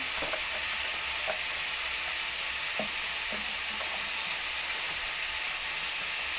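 Potatoes fry in a pan for a Bengali potato and pumpkin bhaji, giving a steady, loud sizzle with a few soft stirring clinks and no talking.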